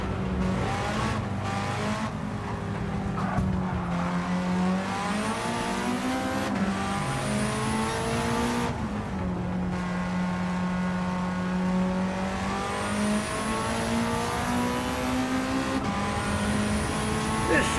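A racing car engine in Gran Turismo 7 revs and shifts through gears in a steady, continuous drone, with loud whining pitch sweeps and occasional tire squeals.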